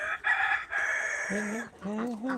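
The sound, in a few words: rooster and farm chickens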